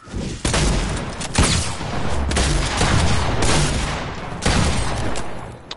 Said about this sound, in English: Who's spamming with an SMG?